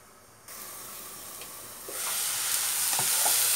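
Mushrooms fry in a pan with a steady, close sizzling hiss that swells louder partway through, with a few faint clicks of stirring on top.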